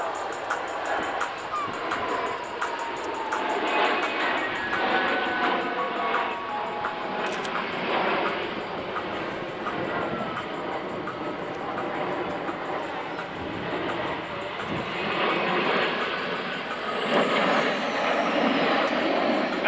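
An aeroplane flying a rolling circle at the 1997 Fairford air show, heard as a steady, broad engine roar that fills the whole stretch without pause and without voices.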